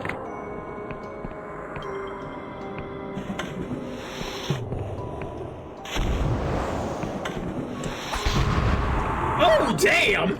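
Bomb blast in the fantasy RPG Dread Delusion, a booming roar that breaks in around the middle and rumbles on loudly, with a second surge near the end, over steady game ambience and a faint voice.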